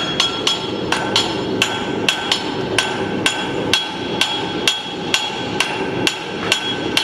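A farrier hammers a horseshoe to draw a clip during a live demonstration, with sharp, evenly spaced metallic hammer strikes ringing on the anvil, close and loud, about two blows per second throughout.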